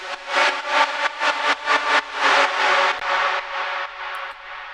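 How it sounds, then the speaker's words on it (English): A bright synth lead plays a run of short, pulsing notes, each swelling with a washy reverb tail that ducks and rises in rhythm. "what you can hear here is probably that the reverb is sidechained"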